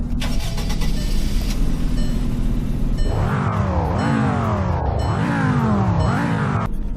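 Engine of an S-trim car with SE rims in the Roblox game Greenville: a low steady idle, then three rising revs that each climb and drop back, loud and close with no talk.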